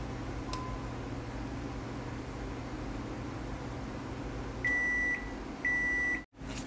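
A microwave hums steadily, then gives two bright electronic beeps near the end, followed by a short click.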